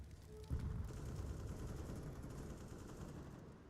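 Sustained automatic AK rifle fire during a competitive Counter-Strike match, a sharp burst opening into a dense, continuous rattle of shots that carries on at steady loudness, partly distant and overlapping.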